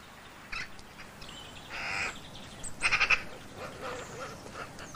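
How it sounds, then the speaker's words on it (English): A magpie, the black-and-white bird with a long wedge-shaped tail, gives harsh, rattling chatter calls, including a quick burst of several notes, moderately close against a quiet outdoor background with no talking. "Magpies, and the harsh, rattling calls they make, have been increasingly in evidence in towns in recent years"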